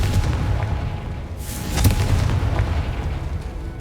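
Confringo blasting spell in the Hogwarts Legacy video game, a burst explosion with a sharp crack amid a dense rumbling game soundscape, fairly loud and sustained afterward.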